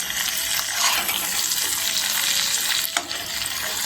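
Chicken leg roast sizzles steadily in a pan with the flame just turned off, a soft scrape of stirring and mixing showing near the end; no talking.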